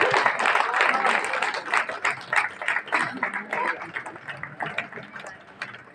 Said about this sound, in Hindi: तालियों की गड़गड़ाहट से स्वागत।